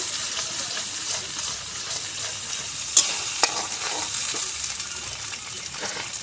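Mustard, poppy seed and melon seed paste is stirred in a hot pan, a steady sizzle with soft scraping and a couple of sharp clicks from the utensil, no voices.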